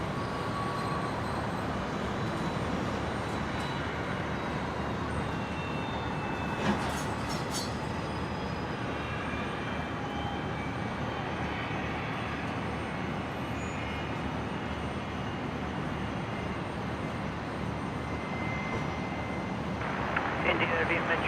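A Virgin Australia airliner, Velocity 331 in from Melbourne, arrives at Brisbane Airport with a broad, steady jet roar that stays fairly distant and constant throughout, along with a brief louder rush near the middle and a faint voice underneath.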